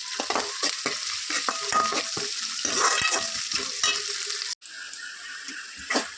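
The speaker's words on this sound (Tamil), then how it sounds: "சின்ன வெங்காயம், நல்லா வதக்கிக்கணும்." Small shallots being stirred and sautéed in a pan for a spicy goat intestine dish, a bright continuous sizzle broken by quick scraping strokes of a spoon, with a brief cut near the end before the frying resumes.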